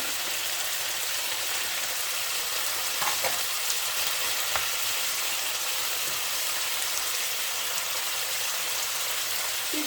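Continuous sizzling and crackling of meat sautéing with tomato and pepper in a pressure cooker pot, steady and close, with a couple of faint clinks along the way.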